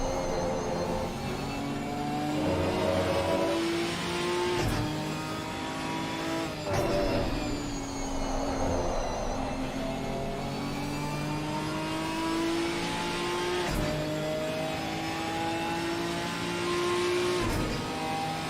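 GT4 race cars, a McLaren and a Ginetta, battle at Donington Park in a racing video game, engines droning loud and close with rising and falling revs, gear-change clicks and faint tyre squeal throughout.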